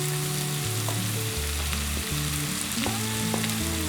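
Mashed boiled potato filling being stirred in a frying pan while making Turkish-style burek, with steady sizzling frying and scraping stir sounds throughout, continuous and close, with no talking.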